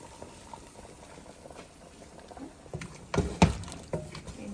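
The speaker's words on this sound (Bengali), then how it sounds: "প্রথমে চিকেন চিকেনগুলো রান্না করছি" Chicken cooks in a pot for chicken biryani, with a faint bubbling simmer that builds into a few louder sizzling spatters and clatters near the end. No one speaks.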